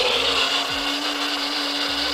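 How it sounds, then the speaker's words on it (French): Kitchen blender whirring steadily as it mixes vanilla pancake batter, a loud continuous motor hum with a slight pitch shift partway through, no voices. "vous avez sans doute été réceptif au bruit de son mixeur"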